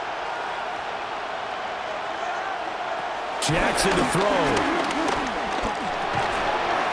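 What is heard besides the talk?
stadium crowd roaring at Arrowhead in Madden NFL 26 video game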